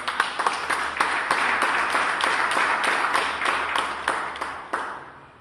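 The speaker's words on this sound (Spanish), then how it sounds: "¿Podrían darle un aplauso al Señor esta mañana?" A church congregation applauds, a steady wash of clapping with sharp individual claps standing out, holding for several seconds before thinning near the end.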